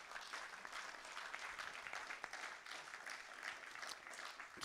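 Audience applause for a town's public service staff at a public budget meeting, a steady wash of many hands clapping, faint and somewhat distant, continuing evenly throughout.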